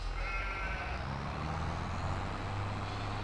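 Sheep bleat in Farming Simulator 22, their calls set over a steady low engine and vehicle rumble, with no talking.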